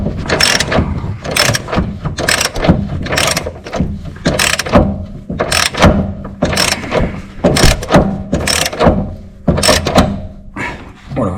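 Ratchet wrench tightening a pin-type socket on a car steering rack repair kit, a BMW X3 F25: steady rapid ratcheting clicks in repeated bursts, close and loud, with no talking.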